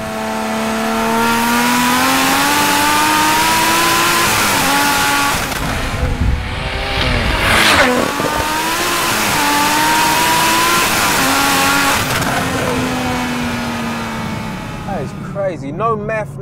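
Tuned 880 bhp BMW M140i running on pump fuel accelerates hard, its engine note climbing loud and close through repeated gear pulls over about sixteen seconds, with a voice talking over the roar.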